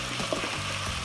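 Onion and ginger-garlic paste sizzle in a pan, a soft steady hiss with faint crackles, quiet and close, with no talking over it.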